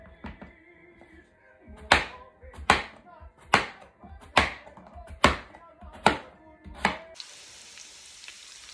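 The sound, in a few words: cutting peeled potatoes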